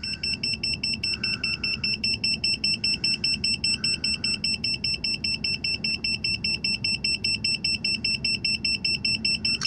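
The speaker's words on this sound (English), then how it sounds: "The meter's bleeping away." A handheld carbon monoxide meter sounds its alarm, a loud rapid shrill beeping repeating in an even pulse from start to finish, with no one speaking.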